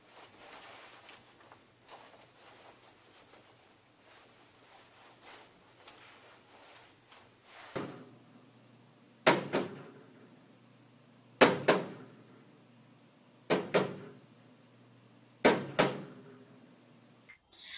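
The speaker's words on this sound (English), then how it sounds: "That sound was created by pulling a heavy saucepan on a concrete floor." A soft scraping rumble, then four sharp metallic scrapes and clanks at regular intervals as a heavy saucepan is dragged on a concrete floor, each ringing briefly before fading.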